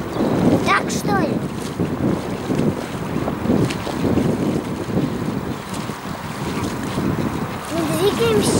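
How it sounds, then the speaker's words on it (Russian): Gusty wind buffets the microphone steadily at a freezing loch, with water sloshing and a few voices speaking in the background. "Нет, это просто ветер."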